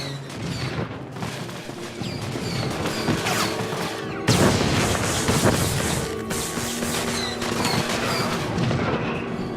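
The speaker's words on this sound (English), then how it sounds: "Attaches a sabotage charge to the target that detonates when the target takes damage." A sabotage charge detonates in Star Wars: The Old Republic amid repeated blaster-like shots and booms, with one sharp, loud blast standing out midway through the combat din.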